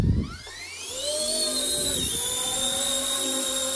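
An RC ERA radio-controlled model helicopter takes off and hovers close by, its motor whine rising steeply in pitch as it spools up, then holding a steady high buzzing drone.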